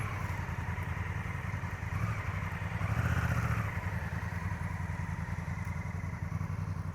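A motorcycle engine revving steadily during an outdoor riding lesson in Uruguay, a loud close drone that swells briefly under extra throttle and then settles back, with no voices.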